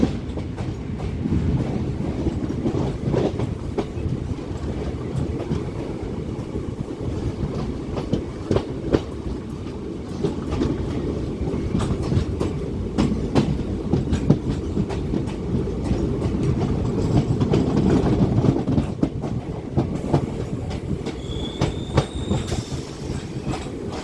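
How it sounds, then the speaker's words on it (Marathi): A DEMU train pulls out of Rukdi railway station on the Miraj–Kolhapur line with a continuous low rumble and rhythmic clickety-clack of wheels over rail joints. Faint squeals rise near the end, heard from on board with no talk. "रुकडी रेल्वे स्टेशनवरचं डेमो ट्रेनचं डिपार्चर दाखवतो"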